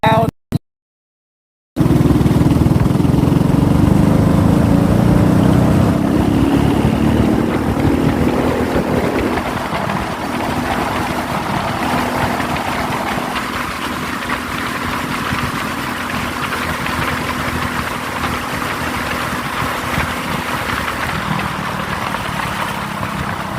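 Small engine of a go-kart with a Predator 212 motor runs loud and steady, a rough continuous drone close to the microphone after a brief silent gap, with wind buffeting over it.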